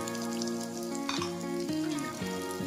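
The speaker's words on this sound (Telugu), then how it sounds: "బంగాళదుంపలు వేసుకున్నాక మనం కొంచెం ఒక 5 నిమిషాలైనా ఫ్రై చేసుకోవాలండి." Potato pieces fry with onions in a pan for aloo methi, giving a steady close sizzle with a few stirring scrapes and clinks of the spoon against the pan.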